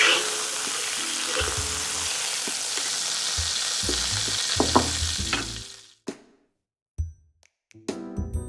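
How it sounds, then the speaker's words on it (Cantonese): Squid stir-frying in a hot wok sizzles loudly and steadily for about six seconds with some scraping clatter, then cuts off, followed by a few sharp metallic clanks of the wok and utensils. "啲魷魚我哋炒到熟咗之後呢，就出鑊"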